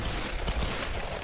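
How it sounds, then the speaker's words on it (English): Gunfire in Tomb Raider Definitive Edition, a dense burst of loud, overlapping shots packed into about a second, with a heavier blast near the middle. "she's shooting at us"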